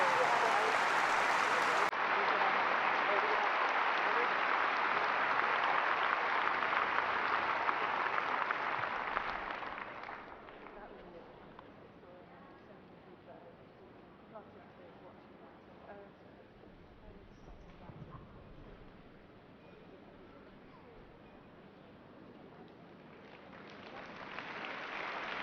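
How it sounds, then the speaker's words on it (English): Audience applause for the Crufts Friends for Life 2013 winners, a man and his dog, at an indoor dog show arena, loud and sustained for about ten seconds before fading into quieter hall murmur and a brief swell again. "Let's give them both a round of applause, our winners of Friends for Life 2013, Owen and Hatchie."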